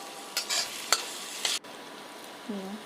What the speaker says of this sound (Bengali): এখন নাড়ে নিচ্ছি, ভালো করে মিশিয়ে নিচ্ছি